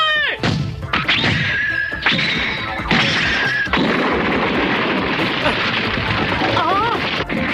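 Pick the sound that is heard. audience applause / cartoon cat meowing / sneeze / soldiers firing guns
soldiers firing guns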